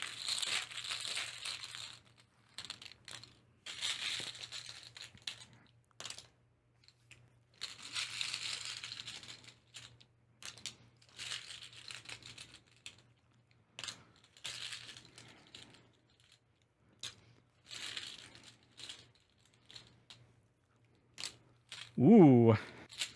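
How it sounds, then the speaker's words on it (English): Wooden tokens are drawn from a cloth bag in the Coffee Roaster board game, giving soft rustling and clacking in repeated short bursts between quiet gaps, close and faint, with a voice speaking near the end. "we're drawing 12 tokens this time"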